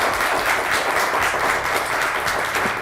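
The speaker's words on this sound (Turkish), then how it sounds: "Bir alkış daha lütfen" A television game-show studio audience applauds steadily and loudly throughout, a dense wash of clapping without pause.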